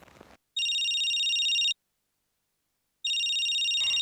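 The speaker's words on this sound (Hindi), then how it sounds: "कल से देख रही हूँ बहुत फोन आ रहे हैं अरु के लिए" Two bursts of an electronic telephone ring, each lasting over a second with a pause between, clear and fairly loud in an otherwise quiet room; a brief rustle occurs at the start.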